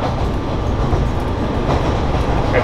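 A Kanto Railway train rumbles steadily as it nears its terminal station, heard from inside as a loud, continuous roar of wheels and motors with faint rhythmic clatter and no break.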